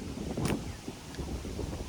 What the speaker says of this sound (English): I love how windy it's getting.